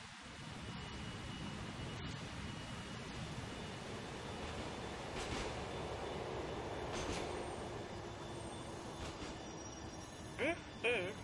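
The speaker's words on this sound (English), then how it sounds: "The train is approaching Francis International Station." Rolling rumble of a subway train approaching a station in the video game GTA IV, steady wheel and track noise heard from onboard, ending in a couple of short brake squeals near the end, with a voice talking under it.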